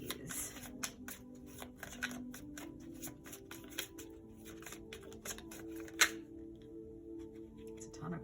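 Tarot cards are shuffled by hand in a quick flurry of crisp, rapid riffles and taps close up, thinning out toward the end, with a faint steady hum beneath and no talk.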